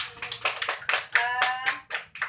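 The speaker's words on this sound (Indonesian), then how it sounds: "Oke, tepuk tangan untuk kita semua." Sixth-grade elementary class clapping hands at the end of a lesson, a cluster of pupils producing quick rhythmic claps in short beats, close and fairly loud, with a faint vocal tone briefly mixed in.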